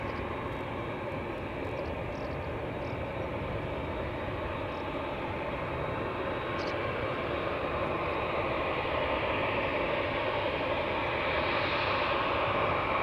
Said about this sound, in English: in the background, a 737-900 to Warsaw is taking off from center